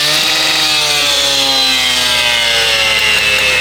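A Husqvarna K770 power cutter runs at a high, steady whine as it cuts concrete, loud and close with no voices over it.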